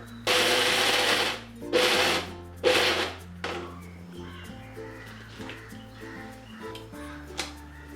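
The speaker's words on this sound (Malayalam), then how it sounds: "ഇനി ഇതൊന്ന് അരച്ചെടുക്കാം" A kitchen mixer grinder grinds soaked urad dal for medu vada in three loud, short bursts, each with a rough, whirring roar. Quieter rattles and a background hum fill the stretch after them.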